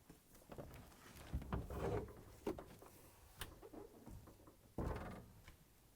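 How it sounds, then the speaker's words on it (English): Both doors of a Frigidaire/Electrolux refrigerator being pulled open, a series of soft clunks, thumps and rattles close by with short gaps between them, the last a firmer thud. "To get to the part, we need to open both doors."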